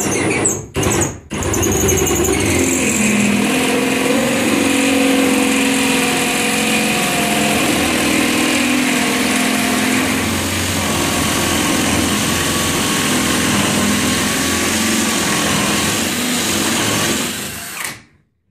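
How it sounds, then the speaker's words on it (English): Power drill running while recessed lighting is installed, a loud continuous high-pitched motor whine held for many seconds after a couple of brief starts, then cutting off at the end. "Make sure your drill's actually on."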